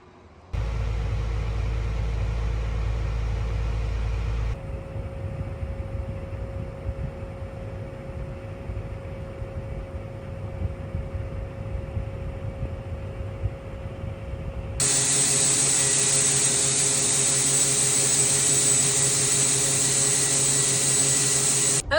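A tractor moving a grain cart forward during harvest, a steady loud engine drone with low rumble throughout, shifting into a higher, brighter whine partway through as it pulls ahead, no talking.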